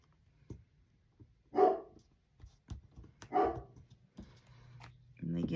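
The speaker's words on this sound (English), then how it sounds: "now he decides, you know, he's got to bark" A dog indoors gives two loud, sharp barks about two seconds apart, with soft tapping and faint room noise between them.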